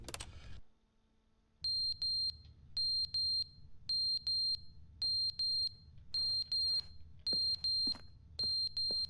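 Smoke detector in The Stanley Parable beeping in a repeating pattern of bright doubled chirps, loud and close, after a brief opening burst of noise and a short quiet gap.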